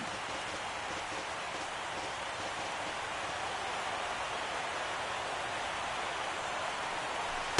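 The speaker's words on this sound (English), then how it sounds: "The rain, as we've mentioned, coming down fairly steadily here at game time" Steady rain pours down at game time during an MLB The Show baseball game, a dense, even hiss of falling water running unbroken and fairly loud, with no voices.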